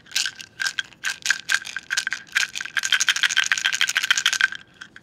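A homemade shaker egg filled with buttons rattles in quick, chunky bursts, shaken alone and close up with a steady rhythm that speeds into a dense continuous rattle before stopping.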